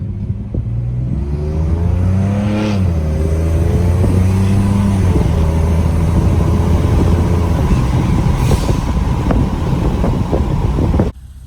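A Ford F150 with the 2.7 engine and new injectors revs up loud and close, the engine note climbing, dipping and rising again, then holding a steady high drone before cutting off abruptly.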